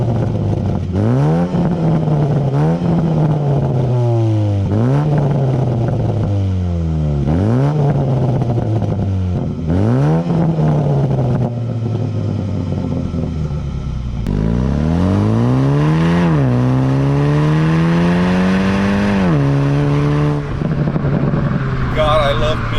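A 2019 MINI Cooper S engine revs and pulls through repeated gear changes while driving, each rise in pitch followed by a drop at the shift, loud and close, with someone talking over it.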